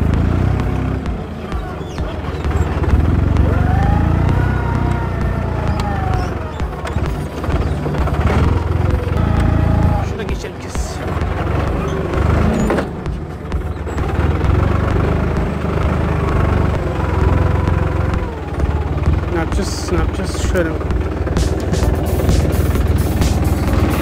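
A Başak 206 tractor pulls a spring cultivator through a weedy olive grove, its engine running loud and steady for the whole stretch, with rattling and clanking from the implement mixed into the constant drone.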